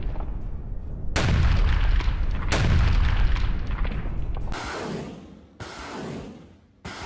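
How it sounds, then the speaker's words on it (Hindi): Heavy Russian artillery shelling in Soledar, Ukraine, with several loud deep booms rolling in succession, each followed by a long rumbling decay and no voices. "यूक्रेनी फौज के ठिकानों पर भारी गोलाबारी"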